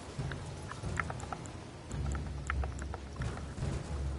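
Horse hooves clip-clop in the video game Elden Ring as a steed trots along, a steady rhythmic patter of hoofbeats over a low rumble of in-game ambience, moderately loud with no speech.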